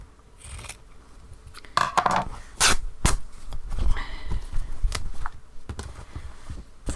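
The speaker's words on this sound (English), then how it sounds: "So let's cut it there." Scissors snip through a handmade stitchery cover close by, several crisp cuts with rustling and handling of fabric and paper between them.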